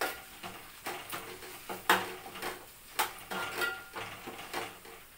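Mutton curry stirred in a pan, a series of soft scraping and clinking spoon strokes in an irregular rhythm over a faint sizzle, close and moderately quiet, no voices.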